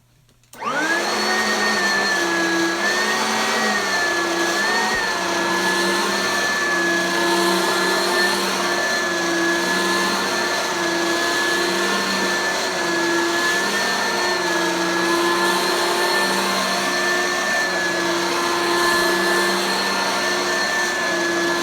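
Reconditioned Oryx vacuum cleaner switching on and running, a loud, steady motor whine with a high pitched tone that holds evenly for about twenty seconds, alone and close.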